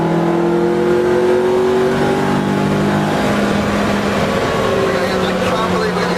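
Car driving fast around the Nurburgring, a loud continuous engine drone with rising and falling pitch as it speeds through corners, with people talking over it.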